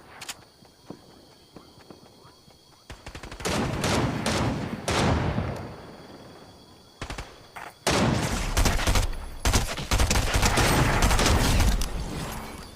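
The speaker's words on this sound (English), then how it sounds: "I'm getting shot at." Video game gunfire in a multiplayer shootout: bursts of rapid shots and single cracks come in loud clusters with short pauses between them, mixed with footstep-like thuds.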